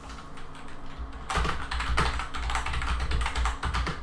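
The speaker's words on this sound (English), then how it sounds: "I can type with a mouse and keyboard." Typing on a computer keyboard connected to an Android tablet: quiet clicks at first, then a louder, close run of rapid, uneven key taps that continues to the end, with no voices.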